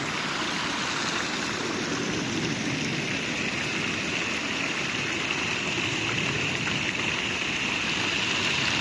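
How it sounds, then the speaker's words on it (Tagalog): Steady rushing of a flowing stream, a continuous broadband wash of water that stays even and close throughout, with no talking. "Tapos maririnig mo yung daloy ng tubig na napakasarap sa tenga."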